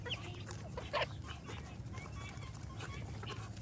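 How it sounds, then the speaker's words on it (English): Young farm turkeys cluck and chirp in soft, scattered calls over a low background hum, fairly close and faint, while a person talks nearby. "Hello, turkeys."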